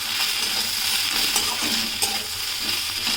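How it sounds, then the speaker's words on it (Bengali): Spring onion with turmeric, cumin powder and Kashmiri chili frying in a pan, a steady close sizzle with light stirring scrapes throughout and no talk. "এবার ভালো করে কষিয়ে নেব।"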